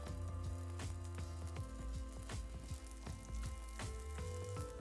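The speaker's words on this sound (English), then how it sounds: "I'm just going to start frying these off" Jackfruit dumplings frying in a little oil in a pan, a soft steady sizzle with scattered small pops and crackles, close but fairly quiet, with no talking.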